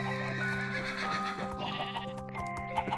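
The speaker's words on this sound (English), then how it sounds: "Look at the sheep." Sheep bleat repeatedly at a farm during a Christmas visit, several overlapping calls close by against a steady background hum.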